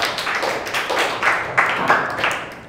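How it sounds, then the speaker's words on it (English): A small group of students claps in a classroom, a scattered, uneven patter of hands at close range that swells and dips in short bursts, with faint voices underneath. "Let's clap for her"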